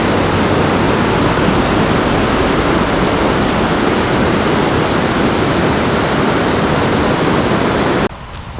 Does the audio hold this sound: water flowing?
yes